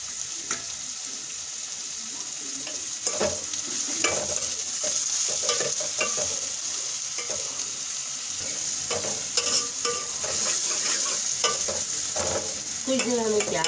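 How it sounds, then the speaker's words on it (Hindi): Onions and cumin seeds frying in a pan, a dense continuous sizzle with bright crackling and frequent stirring scrapes, close and fairly loud throughout, with no voices. "कुछ देर हमें प्याज को पकाना होगा"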